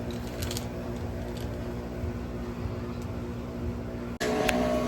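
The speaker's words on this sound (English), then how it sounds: "my coffee machine is so loud in the background" A loud home coffee machine running nearby, a steady mechanical hum with a faint tonal whine that cuts out briefly and then resumes louder near the end.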